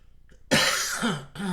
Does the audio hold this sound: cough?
yes